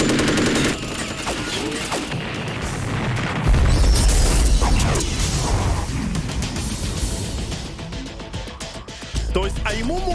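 Dense, loud Metal Gear Solid 2 combat: heavy booming explosions and rattling bursts of gunfire fill the scene, with a deep rumbling blast midway, while voices talk over the chaos throughout.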